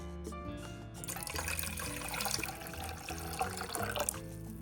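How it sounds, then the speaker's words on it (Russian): Water poured for a jalapeño pickling brine of vinegar, water and salt, a steady splashing flow running the whole time over a faint background of music, with no talking. "Вода 3 стакана."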